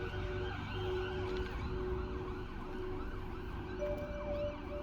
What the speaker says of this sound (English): I thought these were police sirens and actually thought it was for me.